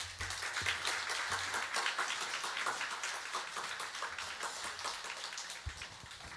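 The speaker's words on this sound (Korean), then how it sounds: "큰 박수로 모시겠습니다." A church congregation applauds to welcome its pastor, a dense, steady wash of clapping from many hands filling the room throughout, with no voices over it.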